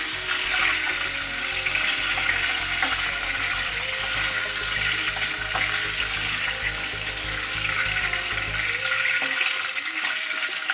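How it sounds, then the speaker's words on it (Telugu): Eggs sizzle and fry steadily in a pan for an egg curry, a continuous close crackle with a soft hiss that fades near the end, no talking. "జస్ట్ ఒక 2 మినిట్స్ ఫ్రై చేయండి."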